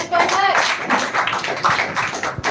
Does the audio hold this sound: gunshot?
no